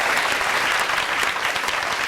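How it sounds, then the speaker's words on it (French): Audience applause fills a French radio or talk show studio, a steady, full burst of many hands clapping at even volume from start to finish. "On va applaudir pour ces garçons peureux"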